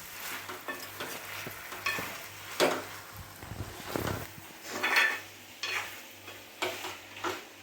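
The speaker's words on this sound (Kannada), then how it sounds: "ಸ್ವಲ್ಪ ಕೊತ್ತಂಬರಿ ಪುದೀನ ಜಸ್ಟ್ ಸ್ಮೆಲ್ಗೋಸ್ಕರ ಹಾಕಿ ಮತ್ತೆ ಈ ಥರ ಚೆನ್ನಾಗಿ ಫ್ರೈ ಮಾಡ್ಕೊಳ್ಳಿ." Coriander and mint fry in a pan for chicken biryani, a spatula scraping and stirring in irregular bursts over a soft, steady sizzle, close by and without talk.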